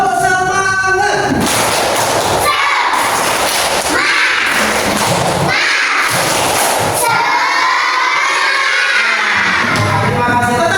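A group of students repeats the "tepuk semangat" clapping chant indoors, loud rhythmic shouted phrases in bursts with short gaps, sharp thuds of clapping mixed in, and a longer called-out section near the end.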